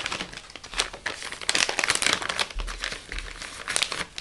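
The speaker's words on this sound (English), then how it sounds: "Let me get a baby wipe." A baby wipe being pulled from its plastic package, a burst of crinkling and rustling with soft tearing sounds close up and no speech.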